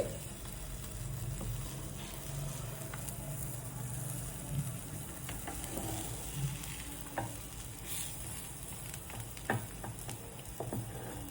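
A bread omelette frying in oil in a pan, a continuous even sizzle with occasional scrapes and taps of a utensil, close by and steady throughout.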